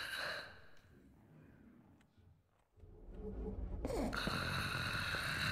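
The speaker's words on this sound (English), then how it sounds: "She snores like a pig." Snoring from a sleeping character in the Thief stealth video game, a mid-level breathy rumble that swells up loudly and continues alongside steady ambient game noise.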